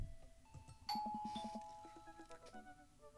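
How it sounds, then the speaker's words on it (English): A doorbell chimes in the dating game Dream Daddy, a clear two-tone ding-dong ringing out over a quiet room and fading into soft electronic tones. "Ding dong. First visitor already?"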